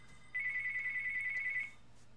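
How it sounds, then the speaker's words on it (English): A single electronic phone ring tone from an in-game call in Tomb Raider (2013), a steady pulsing trill lasting just over a second, clear but fairly quiet against a faint background hum. "Wow, another phone call"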